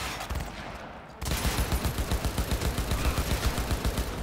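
Automatic gunfire in the video game Cyberpunk 2077: after a muffled opening second, a loud, dense burst of rapid shots runs without a break to the end.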